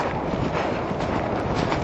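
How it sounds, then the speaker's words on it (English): Steady roaring wind buffets the microphone while a horse canters at a quicker pace, a dense, loud, constant rush with no breaks and no talking. "Pick up a bit of pace now, you can hear the wind"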